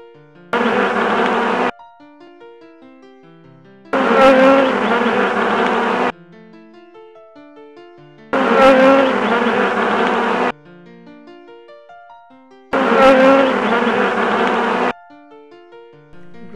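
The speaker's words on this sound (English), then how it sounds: "Honey bee." Honey bee buzzing in four separate bursts of about two seconds each, loud and close, with soft pauses between them.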